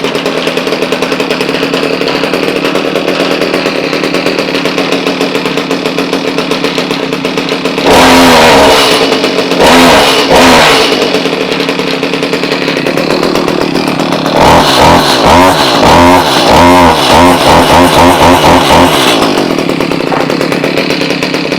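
Stihl HS45 hedge trimmer's small two-stroke engine running loud and close, idling steadily and then revving hard in two bursts, with no voices.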